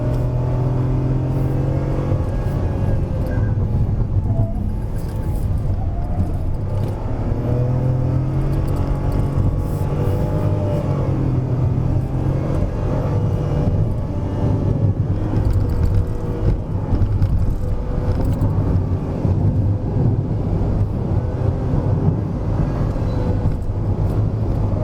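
A Perodua Ativa 1.0 Turbo climbs the Genting hill road, its engine a steady, loud drone heard from inside the cabin, with rising and falling tones as it pulls uphill under a constant road rumble.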